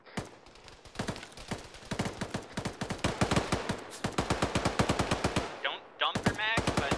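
Gunfire rattles through a combat scene in the video game Arma 3, with dense bursts of automatic fire and rapid shots that grow louder and closer, then briefly pause before resuming.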